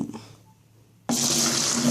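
Tap water pours hard into a bucket while filling a fish tank, a loud steady rushing gush that starts abruptly after a quiet moment and carries on without pause.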